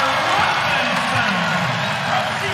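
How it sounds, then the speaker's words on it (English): A packed basketball arena crowd at a women's college game, IUPUI vs. Louisville, roars steadily and loudly after a two-on-one fast-break finish, a continuous wash of cheering with no distinct breaks. "you can hear the crowd going crazy"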